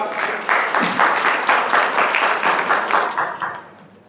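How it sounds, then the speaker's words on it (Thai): Applause from an audience, a dense wash of clapping that holds steady for several seconds before tapering off toward the end. "ขอเสียงปรบมือต้อนรับ"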